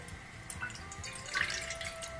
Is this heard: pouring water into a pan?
yes